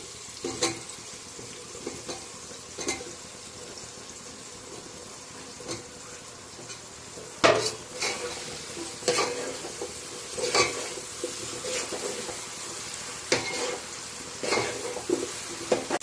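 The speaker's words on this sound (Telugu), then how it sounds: "టమాటాలు బాగా వేగిపోయాయి. ఇప్పుడు మనం కట్ చేసుకున్నాం కదా, ఈ మష్రూమ్స్ వేసేద్దాము." Sliced mushrooms fry with tomatoes in a pan for a mushroom dum biryani, giving a soft steady sizzle broken by scraping spoon strokes and clinks against the pan, some louder than others.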